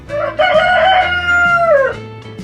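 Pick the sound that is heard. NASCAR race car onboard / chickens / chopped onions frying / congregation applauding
chickens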